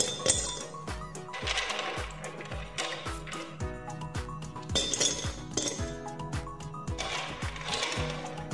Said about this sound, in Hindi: तो इसमें मैं पहले डालूंगी आइस क्यूब्स